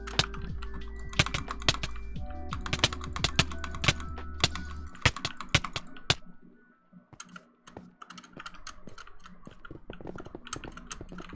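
Rapid computer keyboard typing goes on for about eleven seconds: dense bursts of sharp key clicks, briefly thinning to sparse taps before picking up again, close to the microphone and without speech.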